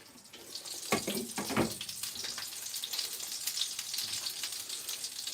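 Dumplings fry in oil in a pan, giving a steady close sizzle and crackle with a few sharper spatters near the start and no talking.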